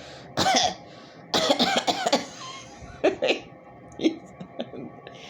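A man coughs in several harsh bursts, with short pauses between them, followed by a few fainter coughs and throat sounds.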